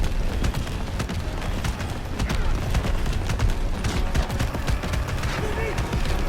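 Gunfire aimed at a moving car in wartime Falaise, France, 1944: rapid irregular bursts of sharp cracks over engine and road noise, with voices speaking amid the shots.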